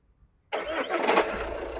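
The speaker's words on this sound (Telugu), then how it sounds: "సింగిల్ సెల్ఫ్లో బండి స్టార్ట్ అవుతుంది సార్" A 2017 Jeep Compass Longitude diesel cranks and fires after a moment of near silence, then settles into a loud, steady, close-up diesel idle.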